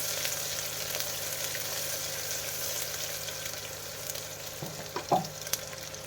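Chopped green chillies and a medium onion frying in hot oil in a pan, a steady close sizzle throughout with a few brief scrapes of stirring near the end.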